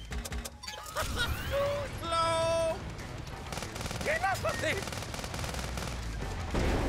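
Bursts of rapid gunfire from a short-range gun in the video game Sand Land, mixed with electronic game effects and tonal chirps, loud and close, with brief gaps between volleys.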